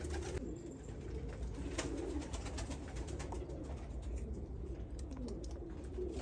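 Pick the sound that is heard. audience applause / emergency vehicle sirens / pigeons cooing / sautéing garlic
pigeons cooing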